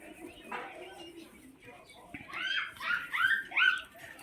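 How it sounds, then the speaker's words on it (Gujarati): Birds chirp and call in quick bright bursts at dawn in a Gujarat village with cattle nearby, getting busier toward the end, with faint background sounds. "પક્ષીઓ પણ ખૂબ જ સુંદર મજાના કલરવ કરતા જઈ રહ્યા છે"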